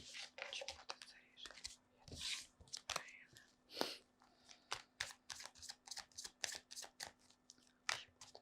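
Rapid papery riffling and soft snapping of tarot cards being shuffled, in quick repeated bursts, close by and fairly quiet, with a faint steady hum underneath.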